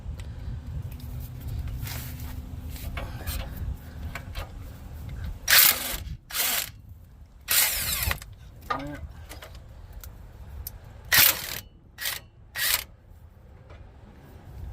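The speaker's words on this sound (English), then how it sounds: "I'm going to use my impact and this swivel socket extension and my 18 millimeter socket" Impact wrench fitted with a swivel extension and 18 mm socket working a front brake bolt on a 1997 Lincoln Town Car, sounding as several short, loud, rattling bursts separated by pauses in a quiet garage.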